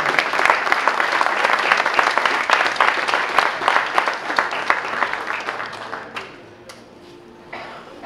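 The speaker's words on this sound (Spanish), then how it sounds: "Para ambos pido un gran aplauso" An audience at a wine awards ceremony applauds the presenters, a steady crowd clapping that thins and tapers off toward the end.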